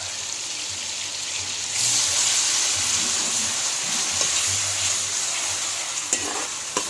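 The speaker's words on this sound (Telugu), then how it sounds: "ఆయిల్లో మంచిగా వేగదండి" Onion and ginger paste frying in hot oil for a meat bones curry, with a steady broad sizzle and the occasional scrape of stirring, close and continuous with no talking.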